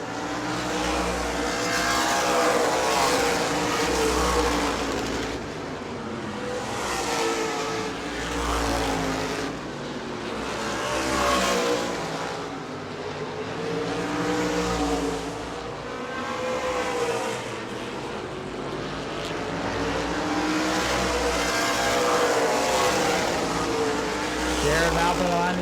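Race cars lapping the oval at the New Smyrna World Series, engines swelling and fading in repeated waves as the pack passes, with a commentator talking over the steady engine drone.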